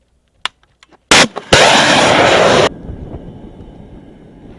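A Javelin anti-tank missile is fired, with a few faint clicks, then a sharp launch crack and a loud, sustained roaring blast of about a second as the motor ignites, fading into a low rumbling tail.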